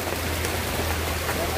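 Steady rain patters on a surface throughout an outdoor riverside outing, a continuous even hiss with a low steady hum beneath it and no clear talk.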